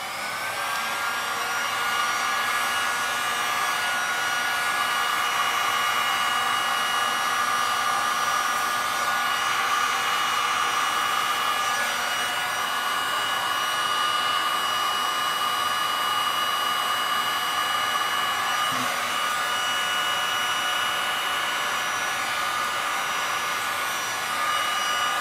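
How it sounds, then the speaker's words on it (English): A heat gun blowing over a resin art tile: a loud, steady whooshing fan-and-heater whine, close and continuous with no pauses. "This is my second heat gun."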